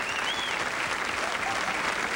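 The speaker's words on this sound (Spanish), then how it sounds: "Yo quiero que ustedes me le den un aplauso bien lindo." A concert audience applauds an orchestra at a salsa show, a dense, steady wash of clapping heard close and loud throughout the short stretch.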